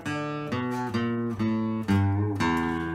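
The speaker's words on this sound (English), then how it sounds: "I'd like to show you how to play an E blues scale on the guitar" Guitar playing a descending E blues scale, six distinct notes picked one after another at an even pace, each ringing clearly and moving lower in pitch, with no talk.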